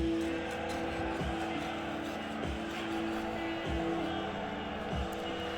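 An RC monster truck buzzes steadily around a backyard dirt track, its small motor whining continuously with a periodic thump roughly every second as it circles, while someone talks over it.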